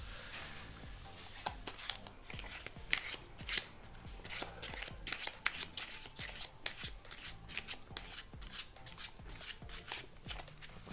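A deck of 52 playing cards is shuffled by hand in a quiet room, giving a long run of rapid crisp riffling bursts and soft slaps in an irregular rhythm, close and fairly quiet, with no talking.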